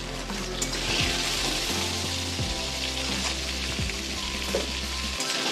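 Green chilies and potatoes sizzle in hot oil in a pan, a steady loud crackle with stirring scrapes throughout and no talking.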